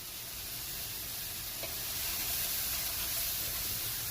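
Curry powder, turmeric and other dry spices toasting in a pan for coconut fried rice, a steady close sizzle with faint hiss, no talking.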